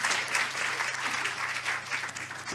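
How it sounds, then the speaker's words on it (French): Full, sustained audience applause at a conference session on pediatric-to-adult care transition, dense and even with a low hum underneath. "oui, on peut applaudir"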